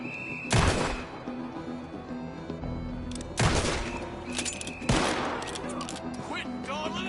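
Gunfire in the Western video game Red Dead: three loud, sharp shots spaced a few seconds apart, each with a ringing tail, over a steady game ambience with faint voices.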